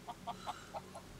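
A chicken in The Warhorn, a video game, gives several short clucks in an uneven rhythm, moderately close and fairly quiet, with no talking over them.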